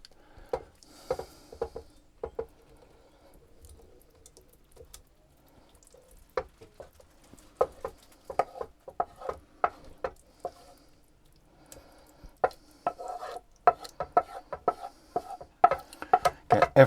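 Sausage casserole being spooned into a slow cooker makes quiet, intermittent wet squelches, clinks and scrapes that grow busier toward the end, with no talking.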